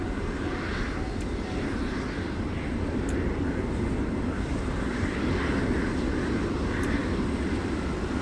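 A video game aircraft drones overhead with a steady, broad engine roar that holds at even loudness throughout, with a few faint clicks over it.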